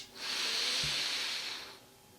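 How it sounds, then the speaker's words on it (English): A single long, close breath during a guided meditation, airy and hissing, swelling then fading over about two seconds, with no talking over it. "taking a deep breath"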